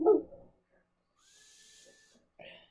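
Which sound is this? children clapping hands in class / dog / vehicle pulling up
dog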